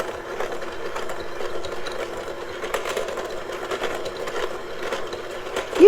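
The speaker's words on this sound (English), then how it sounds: "electric hand mixer and we're going to start creaming the peanut butter and the sugar together" An electric hand mixer whirs steadily while creaming peanut butter and sugar together in a bowl, a continuous close mechanical drone for several seconds with a sharp knock at the end.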